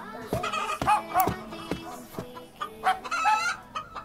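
A rooster clucks repeatedly at close range, a series of sharp, throaty calls in irregular rhythm with brief pauses between them.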